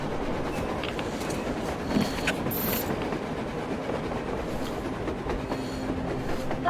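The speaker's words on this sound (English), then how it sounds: "A train! A damn train on the surface!" A train rolls along on the surface in the video game Metro Exodus, a continuous rumbling rattle with metallic clacks and occasional squeals, steady and fairly loud throughout.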